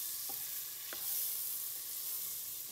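A chicken steak stirred in a frying pan on a stove: a soft, steady sizzle runs throughout, with a few light scrapes and clinks of the utensil against the pan.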